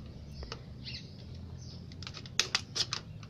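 Scissors or a blade snip through hard plastic pot material close to orchid roots, a handful of sharp, close crunching clicks bunched near the end over a quiet background.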